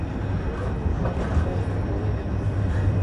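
Istanbul metro train running toward the Esenler bus terminal: a steady low rumble with rail noise throughout, fairly close and continuous, with no voices over it.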